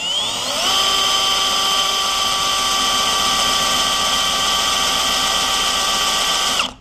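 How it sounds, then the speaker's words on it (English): A power drill bores into a trailer lock, a loud sustained high-pitched whine that holds steady for several seconds before cutting off abruptly. "where we need to drill this lock out"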